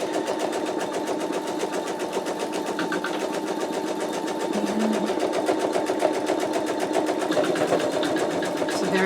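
An embroidery machine stitching a card slot pocket for an in-the-hoop wallet, running as a loud, rapid, steady rhythmic chatter of needle strokes without pause.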